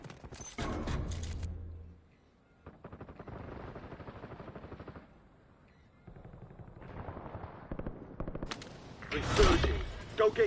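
Gunfire in Call of Duty Warzone, a battle royale shooter: bursts of rapid automatic fire, loud near the start and end, with quieter stretches of distant shooting and in-game radio voices in between.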